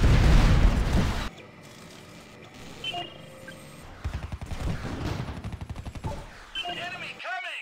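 Gunfire from units under attack in the strategy game Art of War 3: a loud opening burst, then rapid repeated volleys and a fresh flurry of shots near the end, with game voices speaking over the action.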